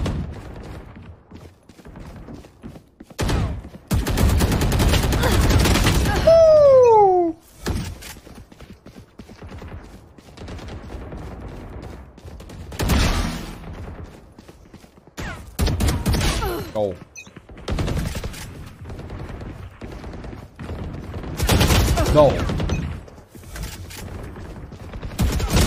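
Rapid gunfire bursts from Valorant deathmatch play, loud and repeated in clusters across the span, with brief metallic mechanism clicks and gaps between volleys.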